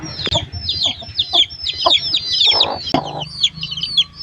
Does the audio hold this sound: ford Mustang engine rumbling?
no